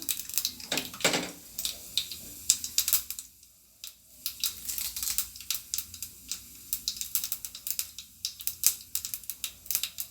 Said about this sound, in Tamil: இப்போ அது கூடவே ரெண்டு காஞ்ச மிளகாயும் சேர்த்துக்குருவோம் கடுகு நல்லா பொரியட்டும்